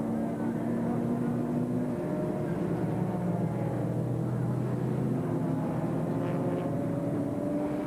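Race cars, a Viper and a Porsche, run at the 2003 Nürburgring 24 Hours with a steady, sustained engine roar and rising tonal whine, heard from a helicopter with heavy rotor drone underneath.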